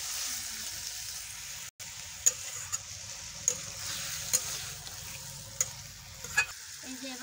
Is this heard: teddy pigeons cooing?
no